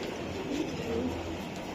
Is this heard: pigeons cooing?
yes